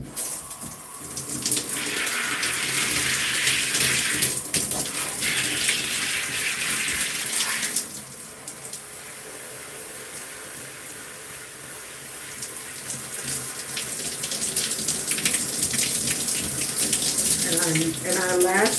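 Running water from a tap gushing steadily while hair is rinsed on wash day, a loud close hiss that shifts in tone as the stream is interrupted, with a brief softer stretch midway.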